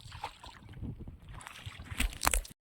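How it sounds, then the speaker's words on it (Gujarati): Faint sloshing and splashing of water against a moving boat at sea during crab fishing, with a couple of brief louder splashes toward the end. "ભાઈ ની બોટ જાય છે"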